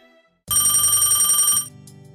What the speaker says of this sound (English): I got another phone call from the same number as earlier, so I half-heartedly answered it